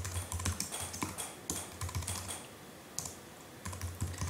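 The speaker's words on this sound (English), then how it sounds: "if I click in here I would type in" Rapid clattering keystrokes on a computer keyboard as an email address is typed in, irregular bursts of close clicks with brief pauses between them and no talking.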